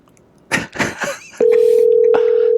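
A few quick clicks and handling noises give way to a loud, continuous telephone dial tone as a second call is placed, the tone holding steady to the end with a faint knock partway through.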